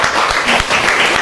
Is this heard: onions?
no